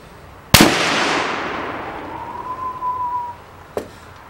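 A single loud, close gunshot from an 8mm Lebel rifle firing a hand-loaded cartridge, with a long decaying roar, a lingering ringing tone, then a sharp metallic clack.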